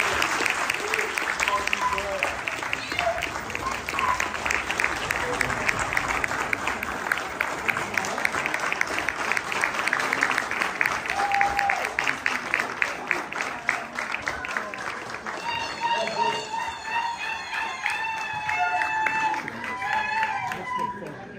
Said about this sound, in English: Let's end with a round of applause for St. Charles